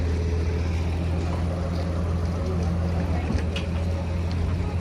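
F4U-1A Corsair warplane passing during a demo flight, a steady loud low engine drone that holds through the clip with a slight swell, no clear approach or fade.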